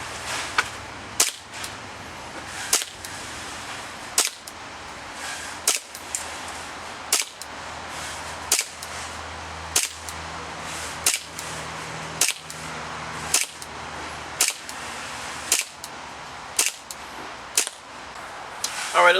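A Desert Warrior 4.3 airsoft pistol fires green gas BBs of 0.20 g in a steady series of sharp single pops, roughly one every second, loud and close with a hiss of gas after each shot.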